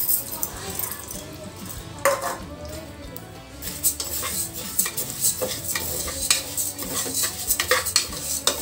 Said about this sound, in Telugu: పెసరపప్పు పచ్చివాసన పోయే వరకు వేయించుకుందాం ఫ్రెండ్స్.